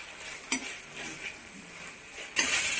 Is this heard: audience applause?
no